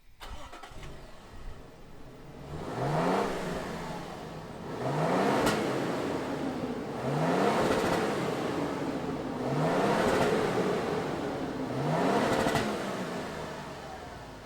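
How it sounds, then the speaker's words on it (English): A 2022 Toyota Tundra SR5 pickup engine fires up, then revs repeatedly in four or five rising surges with brief dips between, loud and close, with no talking. "Let's fire up this new Tundra and hear what it sounds like."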